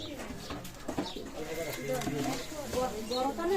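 Pakistani high-flying Teddy pigeons coo softly in a loft, low murmuring calls running beneath steady nearby talking.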